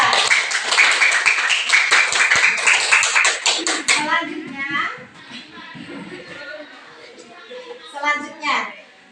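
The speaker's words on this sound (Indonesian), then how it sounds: "Kasih tepuk tangan Mas Abda" Quick rhythmic clapping from a class of children praising a student during an Islamic studies lesson, close and lively for about four seconds, then dying away as a teacher and children talk.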